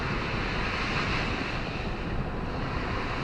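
Choppy ocean waves at Horseshoe Bay, Bermuda, produce a steady, loud, broadband roar of surf mixed with wind buffeting the microphone, continuous throughout with no distinct breaks and no talking.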